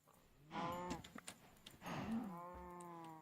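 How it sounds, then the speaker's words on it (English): Cows spawned from eggs in the video game Minecraft give two drawn-out moos, fairly close and clear, separated by a short gap with faint clicks. "give myself some cow spawn eggs."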